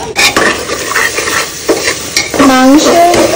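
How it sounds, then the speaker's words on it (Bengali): Spices are stir-fried in a pan for mutton curry. Loud, close scraping strokes come in an uneven rhythm over a sizzling crackle, with a brief squeaky scrape near the end. "আমি তো মশলা কষাচ্ছি"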